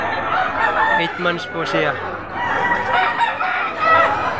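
Roosters crow over a busy chicken market in Padre Garcia, Batangas, with loud nearby calls and clucking amid crowd noise while someone talks.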